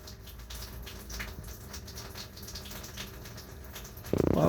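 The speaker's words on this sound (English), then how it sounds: "The water is still running there" Water runs steadily from two RV faucets, a faint continuous splashing hiss, followed by a louder burst of noise at the very end.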